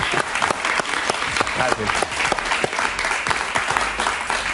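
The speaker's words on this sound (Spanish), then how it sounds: "Un aplauso para él, por favor." A studio audience at a Venezuelan political talk-show interview breaks into dense, sustained clapping with sharp individual claps cutting through, while a voice briefly speaks over it.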